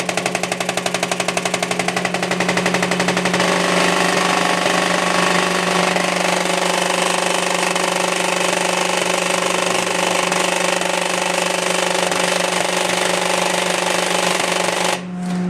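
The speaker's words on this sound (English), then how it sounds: "Each valve is now snapping at the 15, and go ahead and do the final" Deltrol valves cycle rapidly at 25 hertz on a life cycle test rig, making a loud, dense mechanical buzz of fast repeated snaps. The sound holds steady for about fifteen seconds and then cuts off abruptly.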